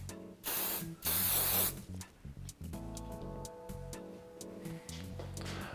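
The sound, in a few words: hairspray being sprayed onto hair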